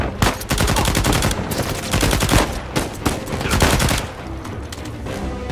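Rapid gunfire from the video game Uncharted 4, loud dense bursts of automatic shots and single cracks firing almost continuously, with brief gaps between volleys.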